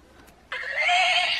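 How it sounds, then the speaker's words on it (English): A toy stick horse gives a loud, close electronic whinny that starts abruptly and holds steady for about a second, with no talking over it. "He whinnies."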